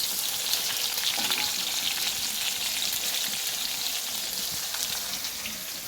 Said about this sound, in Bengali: আর এদিকে চিংড়ি ভাজা হচ্ছে।